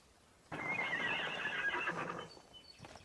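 A horse whinnies loudly and close, a long shrill neigh that trails off, with faint hoof clopping near the end.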